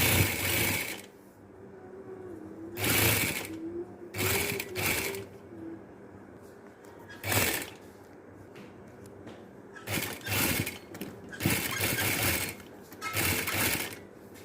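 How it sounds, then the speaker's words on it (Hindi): A domestic sewing machine stitches along the edge of a fabric patchwork piece, running in repeated loud bursts of rapid mechanical whirring separated by short pauses, with no talking. "बिल्कुल इसके किनारे के ऊपर एक सिलाई हम यहाँ पे लगाएंगे ताकि ये अपनी जगह से हिले ना।"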